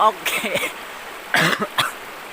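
A few short coughs in quick succession, close and fairly loud, with a quiet background between them.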